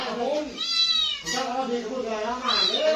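A cat meows repeatedly, loud and close, with drawn-out wavering cries under a person talking.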